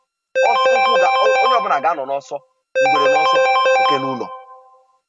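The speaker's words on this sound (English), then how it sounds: "I'm having some interruption on the same phone line. Somebody's calling and somebody's calling." During a live radio call-in broadcast, a phone ringtone plays two loud, close bursts of chiming, tonal rings separated by a short pause, with no talk over them.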